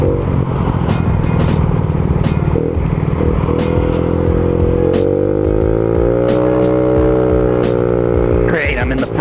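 A Honda Ruckus scooter engine with a suspected exhaust leak drones steadily up close, its pitch climbing through the middle as it revs, with a short sharp burst near the end.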